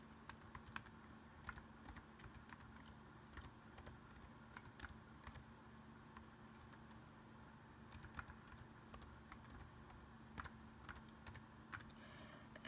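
A password is typed on a computer keyboard in a quiet room: a quick, irregular run of light clicking keystrokes, soft and close, with short pauses between bursts and no voices.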